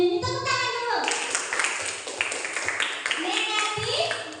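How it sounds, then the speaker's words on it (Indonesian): A group of students claps in a classroom, a burst of many hands starting about a second in and carrying on, while children's voices talk over and around the clapping. "Tepuk tangan dulu."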